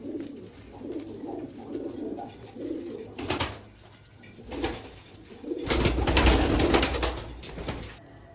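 Two-month-old pigeons coo in soft, low, repeated throaty notes, close by, with bursts of rustling and wing flaps breaking in partway through.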